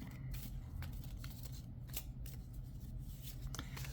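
Soft papery rustling and light flicks of tarot cards being shuffled, quiet and close, with a steady low background hum.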